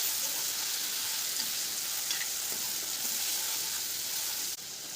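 Potato and garlic paste mixture being stirred in a hot pan for batata vada, giving a steady, close sizzle with soft scraping throughout and a slight drop near the end.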